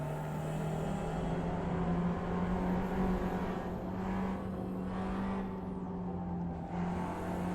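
Race cars on track in Assetto Corsa running a Gran Turismo mod, a steady droning engine hum held at one pitch, with faint whooshes of cars passing through the middle and late part.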